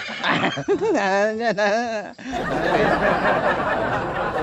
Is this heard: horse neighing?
yes